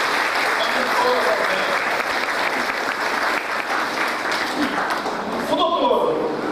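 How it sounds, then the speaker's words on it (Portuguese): Sustained audience applause at a Spiritist lecture in Brazil, steady dense clapping throughout with voices faintly mixed in. "Uma salva de palmas para a Márcia."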